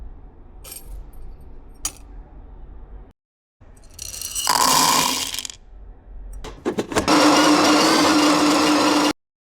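Coffee beans for espresso whir through a home grinder in two loud, sustained bursts with a steady hum, separated by quieter handling clatter and a short silence.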